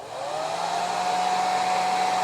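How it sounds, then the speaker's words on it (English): A blow dryer switched on to dry a doll's eye, a steady close whooshing hum with a faint whine that rises slightly as it spins up, then holds constant with no voices. "Turn on the blow dryer"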